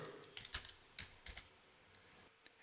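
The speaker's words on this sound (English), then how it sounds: "and hit the space bar" Keys on a computer keyboard click in a short, sparse burst of a few taps and a space bar press while typing in a word processor, close and quiet, ending in a sharp louder knock.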